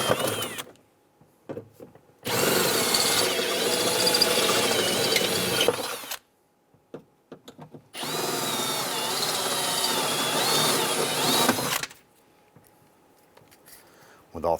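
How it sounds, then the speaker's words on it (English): A power drill bores out rivets on the window regulator of a 1995–2001 Ford Explorer, running in two steady whirring bursts of several seconds each, separated by quiet gaps with a faint voice. "We're going to go ahead and drill out the other 3 rivets."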